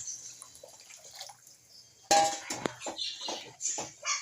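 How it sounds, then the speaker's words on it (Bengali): Spiced gravy water from ground masala poured into a cooking pot for momos, a sudden splashing pour with clattering pot sounds and drips, fairly close, no talk. "এর মধ্যে দিয়ে দেবো মিক্সিতে যে গ্রেভি মশলাটা বেটেছিলাম, সেই মশলার জলটা"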